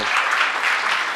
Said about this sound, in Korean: 그래도 박수.